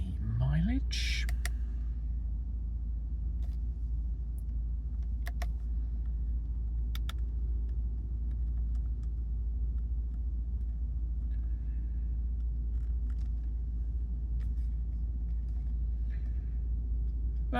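Audi A6 Avant 2.0 TFSI quattro Black Edition petrol engine idling steadily after start, a constant low rumble with a few faint clicks and light handling noises over it.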